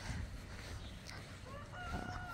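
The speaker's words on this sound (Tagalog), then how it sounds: "tilaok ng manok, nakarinig ako" A rooster crows faintly in the distance over a low background rumble in hilly Queenstown, Tasmania, Australia, with another brief bird call near the end.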